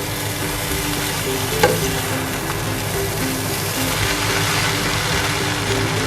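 Chicken chowmein noodles with spring onion are stir-fried in a hot pan, giving a loud, continuous sizzle with stirring and tossing over a steady low hum, plus one brief clink of the utensil, and no talk.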